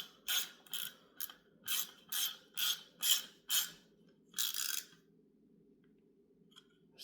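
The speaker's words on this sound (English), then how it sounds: "we will actually come in with the ratchet and finish the job" Ratchet tightening bolts on HEI distributor parts, about nine quick clicking bursts in an uneven rhythm, close and crisp over a faint hum, then quiet.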